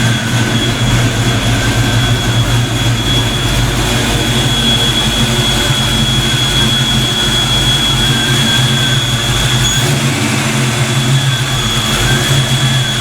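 An engine with newly fitted bigger injectors idles steadily on its first fire, a constant close drone with a low rumble and faint high whine running unbroken throughout.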